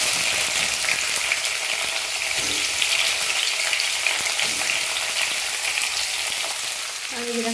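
Bitter gourd pieces frying in hot oil, a loud, dense, continuous bubbling sizzle close by, with light stirring and no talking.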